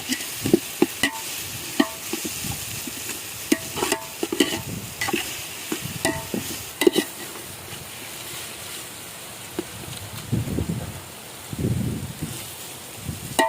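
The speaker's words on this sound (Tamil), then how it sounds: "அரைச்சி வச்சிருக்க மிளகா, அரைச்சி வச்சிருக்க கொத்தமல்லி, சோம்பு, ஜீரகம் அடி பிடிக்காம கிண்டணும்." A ground paste of chilli, coriander, fennel and cumin stirred in a pan for an outdoor village duck fry, with irregular scraping and ladle knocks over a soft sizzle and light outdoor background noise.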